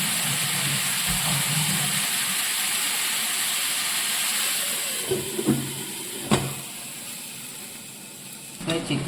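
Chicken simmering in a covered pan with curry leaves, giving off a steady low sizzle and hiss of releasing water, with a few soft knocks near the end.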